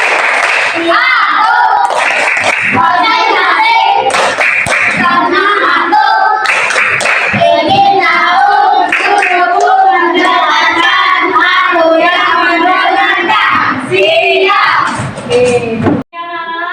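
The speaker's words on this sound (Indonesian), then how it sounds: "Ayo sama-sama tepuk konsentrasi yuk." A classroom of children chanting and clapping together in a rhythmic concentration clapping game, with bursts of unison claps between loud sung and spoken lines, ending with an abrupt cut.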